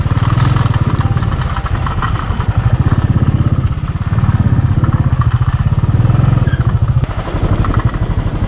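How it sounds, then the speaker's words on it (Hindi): Motorcycle engine chugging with a strong low throb on a rough mountain road in Bihar, loud and close, with a rattling clatter over the pulsing exhaust and a loose, broken stand spring. "पहाड़ों में बाइक लेके।"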